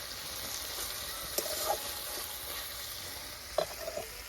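Matar paneer masala frying in oil makes a soft, even sizzle close by, with a few brief clinks and scrapes from stirring. No one speaks.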